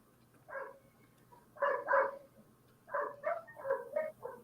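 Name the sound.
puppies barking in the background at Mikhail's house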